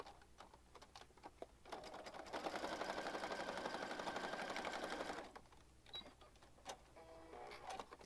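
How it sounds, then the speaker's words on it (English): Sewing machine stitching across the top of an oversized junk journal, a quiet rapid mechanical whir lasting about three seconds between softer handling clicks and rustles. "I'm going to quickly go over to the sewing machine."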